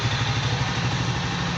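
Jawa Classic motorcycle engine idling close by, a steady low, even rumble with a fine rhythmic beat and light clatter, continuous and alone.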